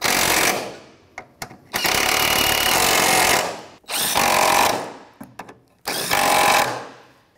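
A power tool drives a 14mm socket to snug bolts on a 2001-2007 Volvo V70 during ignition coil work: three long, loud whirring bursts, with a few short blips between them, and no talking.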